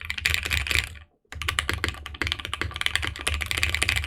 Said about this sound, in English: But I feel like typing also does sound really good as well.